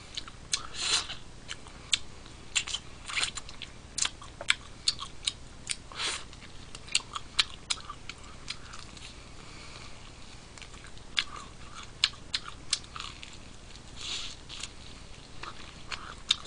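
Close, crunchy chewing and biting of fried chicken with rice, repeated irregular crisp crunches over a quiet room hum, with no talking.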